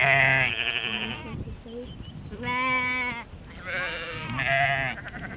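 A flock of sheep on a farm alongside goats, cows and horses bleats in several loud, wavering calls that overlap and follow one another closely, with no talking.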